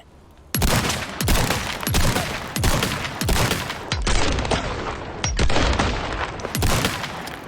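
Shotgun test fired in Resident Evil 4 Remake, a series of about ten loud, heavy blasts in fairly steady rhythm, each ringing out with a deep tail before the next shot.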